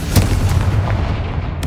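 The Confringo fire spell goes off in the Hogwarts Legacy video game with a heavy booming blast at the start, followed by rumbling echoes and a second burst near the end, loud and close.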